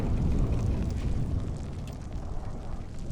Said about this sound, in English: Sounds like there's an explosion along the tracks.